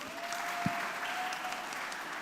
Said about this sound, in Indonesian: tepuk tangan buat yang nanya